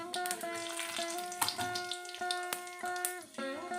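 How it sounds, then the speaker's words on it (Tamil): Mustard seeds, urad dal and a single dried red chilli fry in sesame oil for uppuma, giving sharp crackling pops at an irregular rhythm over a steady tonal hum, close and fairly loud, with no voices. "கடுகு உளுத்தம்பருப்பு ஒரே ஒரு காஞ்ச மிளகாய் போடுறேன்"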